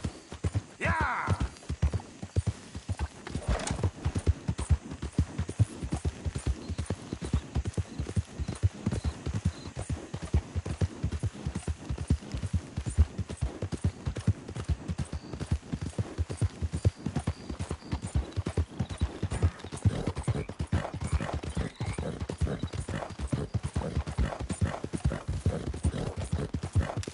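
A horse gallops in Red Dead Redemption II with a rapid, continuous drumming of hooves. The pounding stays close and loud throughout, and a brief snort comes near the start.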